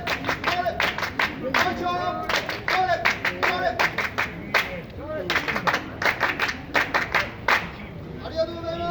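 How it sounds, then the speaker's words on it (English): Rhythmic ceremonial Sambon Jime clapping by a crowd at the Tori no Ichi shrine festival in Japan, sharp repeated claps in quick patterned groups that start and stop, with voices mixed in between. "So the extra clap on the Sambon Jime"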